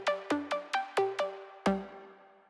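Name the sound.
Dark Space Pluck synth sound from the Logic Pro library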